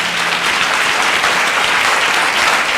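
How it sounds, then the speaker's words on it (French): A church congregation claps in a dense, loud, steady burst of applause at a French-English worship service, with a faint voice under it. "Give her a big hand clap."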